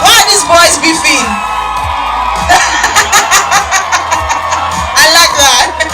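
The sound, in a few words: crowd screaming and cheering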